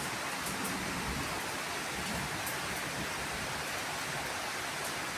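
Monsoon rain pours steadily on the courtyard on the Narali Purnima full-moon day, a dense, even hiss with no breaks and no voices.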